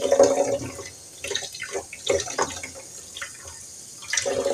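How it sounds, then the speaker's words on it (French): Sprouted small seeds being rinsed under a gentle tap stream in a sink, an uneven splashing and trickling of water that swells and fades in short bursts, close up with no talk. "donc je rince les petites graines"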